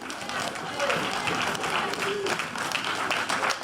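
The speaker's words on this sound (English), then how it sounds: "Please applaud and congratulate you dearly" Audience applause at a political party event, moderate clapping that swells and continues steadily over background murmur and a voice.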